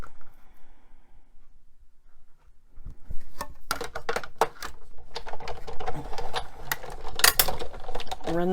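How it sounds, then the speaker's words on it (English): Paper being cranked through a manual die cutting machine for a Stampin' Up! card, after quiet handling: a run of mechanical clicking, ratcheting and rolling from about three seconds on, close and fairly busy. "Run this through my die cutting machine."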